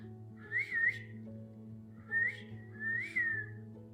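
Someone whistles a few short, clear bursts in a quiet indoor room, three brief rising-and-falling whistled phrases over a low steady hum.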